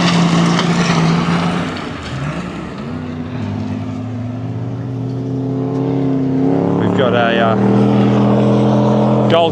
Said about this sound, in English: Sherry driving it hard.